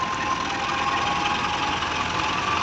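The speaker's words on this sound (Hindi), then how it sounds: "ते हुण दूसरा ट्रैक्टर लाता 640" Steady, loud New Holland 640 tractor engine running during a wheat threshing job in Punjab, Pakistan, a continuous droning hum with a bright whine, unbroken for the whole stretch with no talk.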